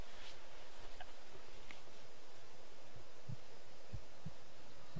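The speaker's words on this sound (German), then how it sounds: "Wo kommt dieses komische Herzklopfen jetzt aber mal her?" Heartbeat effect in the strategy game Medieval 2, faint muffled low thumps pulsing in a slow irregular rhythm beneath a steady hiss and soft rustling ambience.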